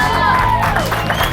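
Live radio show audience at an evening broadcast with Todd and Tyler, a dense crowd roar of cheers and whoops sustained and loud throughout, with a tone gliding above the noise.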